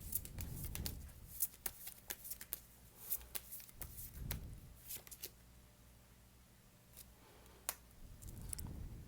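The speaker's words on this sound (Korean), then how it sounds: "조언 카드 뽑아볼게요." Tarot cards are shuffled and drawn by hand at close range, giving quiet riffling, sliding and flicking sounds with sharp little snaps scattered through an otherwise soft, hushed passage.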